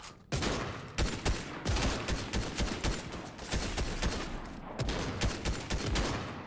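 Dense gunfire in Fortnite: rapid bursts of shots crack in quick succession for several seconds, pausing briefly once, with no talking over them.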